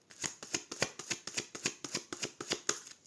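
Tarot cards snapped and riffled in a quick, even run of about a dozen crisp slaps, close and fairly quiet, with no talking.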